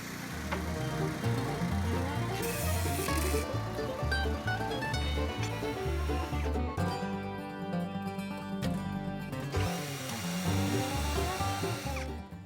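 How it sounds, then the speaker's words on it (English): A power drill bores large holes in wood brackets for a treehouse build, a loud, sustained motor whine with shifting pitch and grinding bursts, mostly continuous with short dips. "Drilled a couple of really big holes in these because I'm going to use a 5/8 lag to attach them to the tree."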